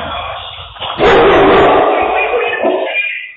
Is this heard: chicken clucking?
no